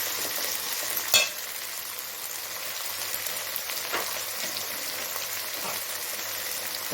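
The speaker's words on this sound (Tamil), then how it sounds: "இப்போ இந்த தக்காளி வதங்கிறதுக்கு மட்டும் கொஞ்சமாக நான் உப்பு போட்டுக்கிறேன்" Chopped tomato sautés with salt in a pan, a continuous loud sizzle and frying hiss throughout with a few brief stirring clanks.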